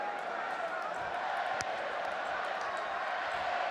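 Stadium crowd at the France versus England rugby U20 World Cup final in 2018, a broad, steady roar of cheering and shouting from distant spectators with one sharp bang partway through.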